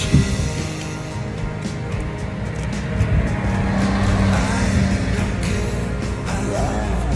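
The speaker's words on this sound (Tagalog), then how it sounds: "Mga dumadating na mga sasakyan." Vehicles arrive along a cool mountain road near pine trees at Mt. Pines in Bukidnon, their engines a steady close rumble with a rise in the middle as one passes, over constant outdoor noise and wind.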